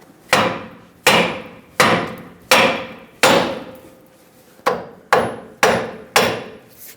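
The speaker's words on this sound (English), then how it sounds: "take a hammer, tap the knuckle to separate the two." Nine sharp hammer blows strike a steering knuckle on a Chevrolet Silverado 2500 HD in a steady rhythm, each ringing briefly before the next, loud and close with one longer pause midway.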